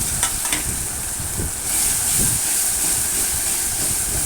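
Cashew and coconut paste frying with spices in a pan for a pointed gourd curry, giving a steady close sizzle with stirring scrapes that grows louder midway, no talking.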